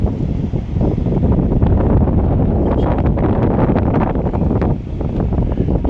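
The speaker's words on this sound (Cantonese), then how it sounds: "幾大風喎" Strong wind on a small island in Aruba buffets the microphone in a constant low roar and rumble, with brief gustier bursts, and no one speaking.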